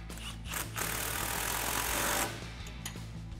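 A 15 millimeter wrench and socket tightens a nut on a Chevrolet Silverado 1500 front suspension lift, giving a close ratcheting burst lasting just over a second amid faint clicks.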